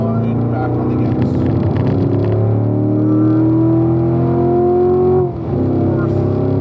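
Race car on a track during an instructor lap, a loud, close engine climbing steadily in pitch under acceleration, then a brief dip as it shifts or lifts before pulling again.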